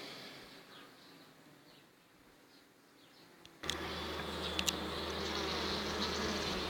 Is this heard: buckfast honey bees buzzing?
yes